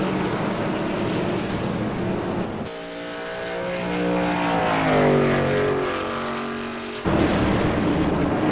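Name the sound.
race truck engine revving at Charlotte track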